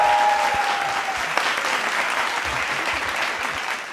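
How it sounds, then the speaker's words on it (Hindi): Studio audience at a Hindi political satire poetry show bursts into loud, steady applause, a dense wash of clapping that holds for the full stretch with a faint tonal sound fading at the start. "तालियां बजाओ, माहौल गर्म हो गया।"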